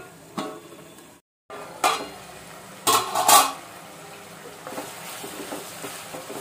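Tomatoes and amaranth greens with salt and turmeric stirred in a pan, with a few loud metallic scrapes and clanks of a spoon against the pan over a faint sizzle and a short silent gap.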